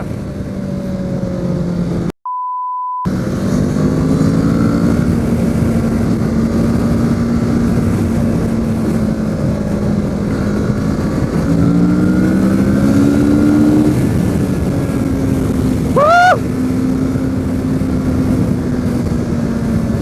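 A Kawasaki Z650 motorcycle cruises in third gear along a road, its engine a loud, continuous drone that swells and dips in pitch, with one brief dropout near the start.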